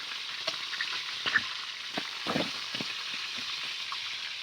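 Fresh fish fries in a pan with a steady, close hiss and crackle, broken by a few sharp spits and pops, with no talking.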